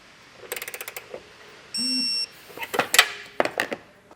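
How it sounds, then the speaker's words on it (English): Ratchet torquing base plate bolts on a 2015 Chevrolet Spark during a Blue Ox base plate install: bursts of rapid clicking at close range, broken by a short electronic beep. "Now we'll torque both these bolts down."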